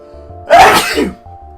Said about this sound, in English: One moment, I think I'm about to sneeze.